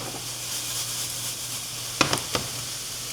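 Mushrooms sizzling in a frying pan, a steady close hiss of frying throughout, broken near the end by a few short clacks of a utensil against the pan.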